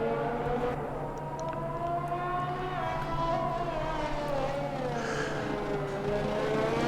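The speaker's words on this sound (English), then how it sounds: "Ah, that Honda engine sounds so nice." A Honda race car engine in a racing video game at Bahrain International Circuit, revving at high pitch with rising and falling tones through gear changes, heard steadily without talk.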